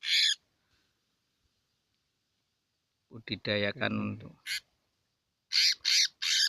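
A selendang biru bird in Indonesia gives short, harsh, loud calls: one at the start and a quick cluster near the end, with someone talking in between.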